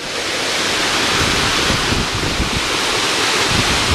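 Rushing white water on the river at Devil's Hopyard State Park, a steady dense roar filling the whole clip, loud and close with no voices.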